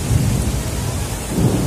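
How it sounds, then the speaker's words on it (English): Heavy storm rain pounds down steadily during a Medellin downpour with hail mixed in, a dense, close wash of noise swelling slightly at the start and end, with no voices. "It's just pummeling. Heavy, heavy rain, even with hail."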